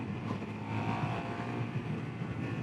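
A Suzuki SV650 motorcycle being ridden, its engine note holding a steady, fairly quiet drone that runs continuously with no sharp revs or changes.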